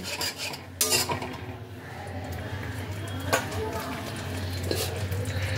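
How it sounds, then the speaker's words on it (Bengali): A spice paste for a tilapia dish is stir-fried in a pan, with scraping spoon strokes and clinks over a low sizzle while a voice talks in the background. "এই সব কিছুকে একসাথে ভালো করে মিশিয়ে নিয়ে মশলাটাকে কষাতে হবে"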